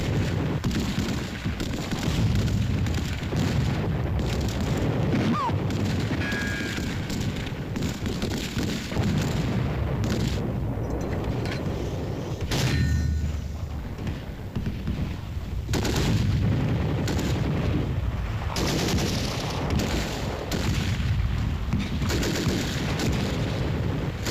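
Battle gunfire from soldiers, with rifle shots and artillery booming in a loud, continuous barrage over the whole stretch and a heavier blast partway through.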